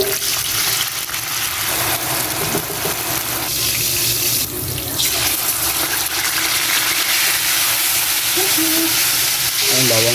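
Sautéing garlic, onion and tomato for pork menudo hisses in a pan, a steady loud sizzle throughout with a few clinks of a utensil stirring.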